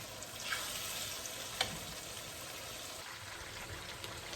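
Hilsa fish curry with green chilies bubbles and sizzles in a pan, a continuous soft crackling hiss with occasional small pops and stirring sounds, fairly quiet and steady throughout.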